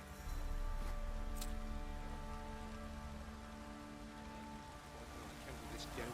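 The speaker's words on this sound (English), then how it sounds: "This downpour." Steady rain downpour in The Witcher 3, a soft continuous hiss of falling water with low ambient hum, fairly faint and even throughout with a few brief brighter splashes.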